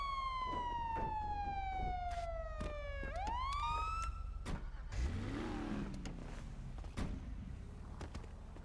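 A police car siren wails steadily, its tone falling slowly before sweeping sharply upward, then breaks off into a lower warble over the steady hum of a running car engine, with no talking.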